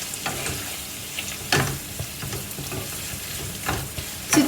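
Potato fry with chopped coriander is stirred in a sizzling pan, a soft continuous frying hiss punctuated by irregular scraping strokes of the spoon, fairly close and moderately quiet, with no voices.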